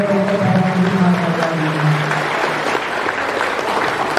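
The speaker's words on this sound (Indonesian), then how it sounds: "Beri tepuk tangan yang meriah sekali pada Dr." An audience at an academic lecture event gives steady, dense applause throughout, near and loud, with a faint voice or tone lingering briefly at the start.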